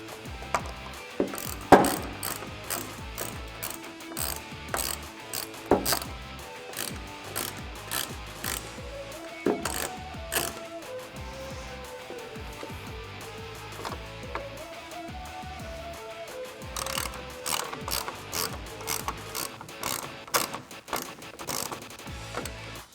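A hand ratchet snugs down the mounting bolts of Raxiom LED tail lights with black housings on a 2009-2018 RAM 1500. It gives long runs of rapid, close pawl clicks that pause briefly and then resume.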